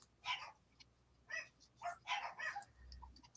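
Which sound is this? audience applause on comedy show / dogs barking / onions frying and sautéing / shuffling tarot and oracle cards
dogs barking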